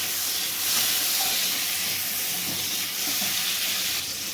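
Chillies sauté in a pan with a steady, hissing, steam-heavy sizzle, continuous and fairly close, with faint stirring beneath and no voices.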